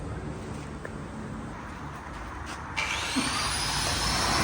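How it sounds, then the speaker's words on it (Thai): An air extractor fan runs in a workshop, a steady broadband whoosh that grows slightly louder and gains a faint whine partway through, with no voices. "นั่นก็ปิดฝาไว้นี่ตัวดูดอากาศนะครับ"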